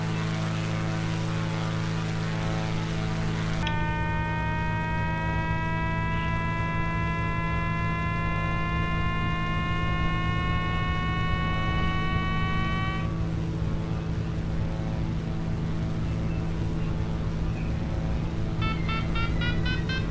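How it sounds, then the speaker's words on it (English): Glider variometer in Microsoft Flight Simulator X beeping as a rising series of steady tones over a constant aircraft engine drone during an aerotow takeoff, then breaking into quick repeated beeps near the end. "That beeping you're hearing is the variometer."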